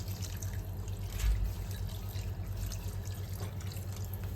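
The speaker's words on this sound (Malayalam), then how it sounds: "ഈ തേങ്ങയുടെ പാൽ ഇതിൽ ഒഴിച്ചു കൊടുക്കുക" Thick coconut milk is poured into a pot for chicken nirvana, a steady, soft liquid trickle that continues throughout.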